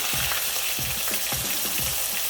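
Onion paste frying in hot oil with bay leaves, small cardamom and cloves for a black chana curry, a loud dense sizzle close by, with rhythmic low scrapes from steady stirring.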